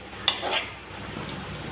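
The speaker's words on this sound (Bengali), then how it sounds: "অনবরত কষাতে থাকব যাতে মাংসের জল সব শুকিয়ে যায়" A utensil clanks twice against a pan as meat with potatoes is stirred and fried down, two sharp close knocks followed by a soft steady background hiss.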